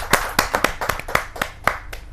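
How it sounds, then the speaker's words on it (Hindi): A crowd claps in a burst of uneven, overlapping hand claps, fairly close and loud, with no talking over it, welcoming an actress at a Hindi poetry gathering. "जोरदार तालियों के साथ हम उनका स्वागत करते हैं"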